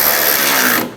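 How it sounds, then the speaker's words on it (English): A hand ratchet snugs down headlight bolts on a 1997-2001 Honda CR-V, a close, rapid run of metallic clicks lasting under a second before stopping abruptly. "And snug the bolts down."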